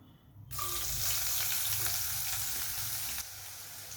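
Chopped onion dropped into a pan of hot oil with mustard seeds and urad dal, bursting into a loud sudden sizzle that holds steady, then eases slightly near the end.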